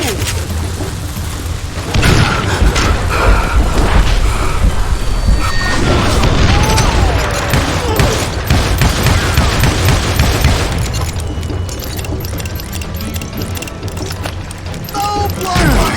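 Loud, dense gunfire and explosive booms in the Call of Juarez video game, sustained and chaotic over background game noise for most of the stretch.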